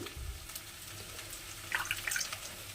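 A small splash of water trickles into turmeric and red chilli powder for a fish kalia masala, a faint liquid patter over steady background hiss, clearest in the second half, with no speech.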